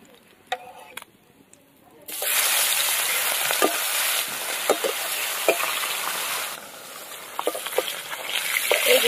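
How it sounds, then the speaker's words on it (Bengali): Hilsa fish frying in a little oil, a loud, steady sizzle that starts abruptly and carries on with small crackles and occasional stirring clicks, close by. "মাছ ভাজা হয়ে গেছে, ইলিশ মাছ একদম হালকা করে ভেজে নিয়েছি"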